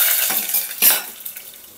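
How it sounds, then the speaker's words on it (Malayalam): Fried chana dal being stirred in a pan for a Malayalam-style rice upma, with a few soft scraping and clinking strokes of a spoon against the pan, close and fairly quiet. "ഒന്ന് ഇളക്കാം."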